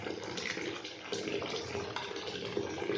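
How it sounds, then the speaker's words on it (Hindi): A cooler water pump runs at full flow, giving a steady, continuous splashing rush of water that stays close and fairly loud throughout. "ये देखिए अभी पूरी फ्लो में पानी चल रहा है इसमें"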